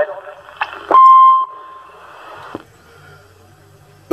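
A CB radio roger beep on an AM citizens band rig, heard as a steady electronic tone lasting about half a second near the start, with brief clicks and static-laden radio noise around it.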